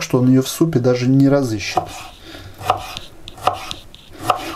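A Metropolis Black Fox kitchen knife slices a tomato on a cutting board, giving several crisp, evenly spaced chopping taps that follow a man's speech at the start.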